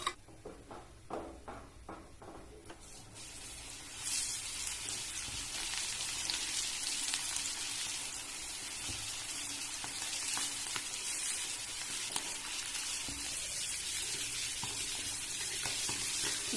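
Fish sizzles and fries in a little oil on a wide flat tawa, a steady close crackling hiss that starts after a few soft clinks and continues unbroken.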